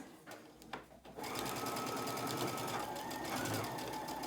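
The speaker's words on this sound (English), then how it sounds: "now I'm gonna show you how I sew this base onto my tree." A sewing machine stitches a quilt block base onto a patchwork tree block with a quarter-inch seam, a few faint knocks giving way to a steady, close whirring run that continues to the end.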